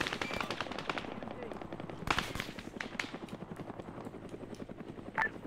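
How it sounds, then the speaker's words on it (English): Rapid autocannon fire from a BMP armored vehicle in an Arma military-simulation game, a dense stream of sharp close bursts with a few heavier impacts, sounding under radio chatter and talk. "Apparently it's a BMP shooting at you."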